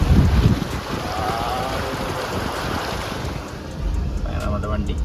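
A Toyota Innova pushes through flowing water with a constant rushing wash and low rumble, wind buffeting the microphone, loud at first and then steady.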